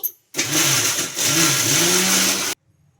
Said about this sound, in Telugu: మూత పెట్టేసుకొని గ్రైండ్ చేసుకోవాలి